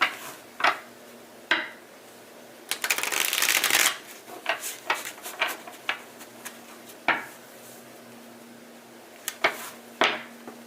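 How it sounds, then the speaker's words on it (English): Tarot cards are shuffled close up during a reading, with crisp riffles and one longer burst of flicking, then scattered taps and slaps of the deck at uneven intervals, alone in a quiet room. "Let me shuffle these real quick."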